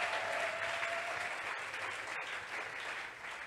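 A church congregation applauding steadily in acclaim of God, a dense, continuous wash of many hands clapping at even loudness throughout.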